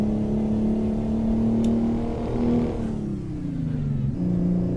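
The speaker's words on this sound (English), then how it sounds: "One thing I don't like about this truck is that it grinds every gear." A MACK Superliner truck engine in American Truck Simulator drones loudly and steadily, then drops in pitch through a gear change and picks back up, a close, continuous diesel rumble without speech.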